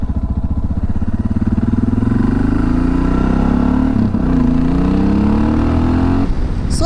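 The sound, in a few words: motorcycle being ridden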